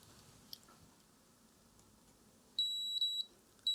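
Multimeter continuity tester beeping while probing circuits of a tube radio under restoration, with two short steady electronic tones and the start of a third after quiet probing clicks, close and clear, no talking.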